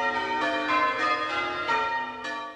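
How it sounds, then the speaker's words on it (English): Church bells of Hinton Waldrist, in the Vale of the White Horse, ring out in a steady overlapping peal, several strikes in quick succession with long resonant tails, loud and continuous. "The bells of Hinton Waldris in the Vale of the White Horse ringing proudly out."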